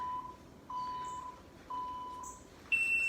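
A workout timer gives three evenly spaced, faint mid-pitched beeps, each roughly half a second long, followed by a brighter, higher tone at the end.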